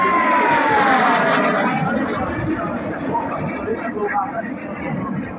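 An L-29 Delfín jet trainer flies at Jasná, its loud, steady jet roar holding throughout with a falling whine at the start and then slowly easing off.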